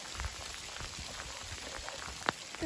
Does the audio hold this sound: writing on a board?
no